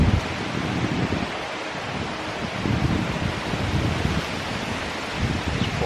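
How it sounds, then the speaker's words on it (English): Strong outdoor wind buffets the microphone at a bushcraft camp, a steady loud roar with low rumbling gusts and no voices. "sorry about it, it is windy today."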